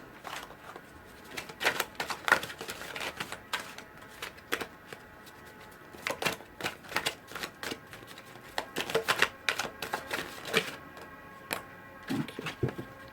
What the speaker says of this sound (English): I'm going to pull two advice cards now